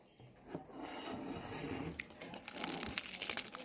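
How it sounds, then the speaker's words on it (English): A crunchy bite of quesadilla gives close, crisp crackling and crushing textures that grow louder and sharper toward the end, with no talking. "I'm going to try to recreate the crunch that Gabby did yesterday."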